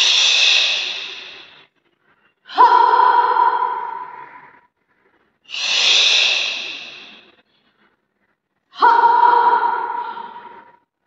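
Bhastrika bellows breathing in a yoga pranayama session: four loud, forceful breaths alternate between inhale and exhale, each lasting about two seconds and separated by short pauses, heard close up and alone.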